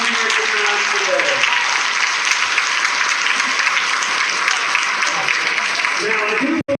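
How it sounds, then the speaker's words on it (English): Thunderous applause honoring veterans at a hometown heroes event, a loud, dense wash of many hands clapping that holds steady throughout and cuts off abruptly at the end. "let's get a thunderous applause for all of our veterans"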